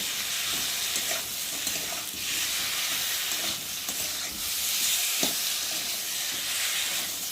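Salted spice paste sizzles in a pan at close range, a steady frying hiss broken by occasional scraping stirs and small pops throughout.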